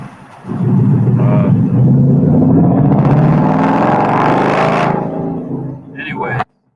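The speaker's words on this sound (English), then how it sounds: "someone's loud car is over here." A loud car passes outside, a broad, heavy rumble that swells quickly and holds strong for several seconds before cutting off abruptly near the end.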